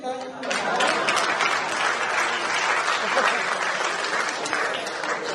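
An audience at a Hindi poetry recital (kavi sammelan) in Gwalior claps loudly and steadily, with dense applause starting abruptly and holding for about five seconds without a break.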